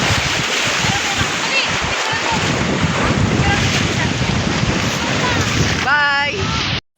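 Steady broadband rush of ocean waves and wind buffeting the microphone aboard a boat at sea off Marinduque, continuous and loud, with a brief voice rising near the end before it cuts off.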